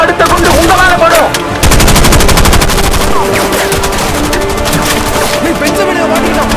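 Loud, dense machine-gun bursts and rapid gunfire crackle through an action film scene set at sea, continuous and close, with shouted voices and boat noise underneath.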